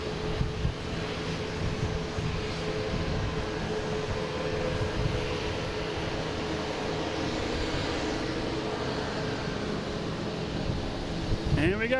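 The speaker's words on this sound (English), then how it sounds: "we have an American taking off here at A319, flight 1557" An American Airlines Airbus A319 taking off at Boston Logan airport, a steady, broad jet roar at moderate distance filling the whole stretch, faint and even in level, with occasional voices in the background.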